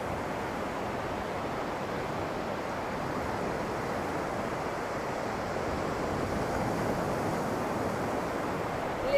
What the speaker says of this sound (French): Laissez-vous vous apaiser par le bruit des vagues, le bruit de la mer.